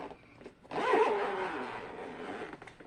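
The zipper on a Leo Jaymz case is pulled open, one close, steady rasping run lasting about two seconds after a few faint handling noises, with no talk.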